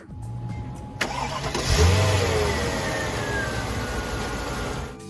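A Mercedes SL R129 V8 engine, likely the M113 in an SL500, cranks and fires up, then revs briefly before settling into a steady, smooth idle, loud and close with no talk.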